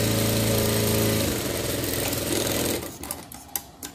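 A sewing machine stitching a dress for a Shih Tzu dog runs in a fast, steady whir for nearly three seconds, then stops, leaving a few faint clicks and handling noises close by.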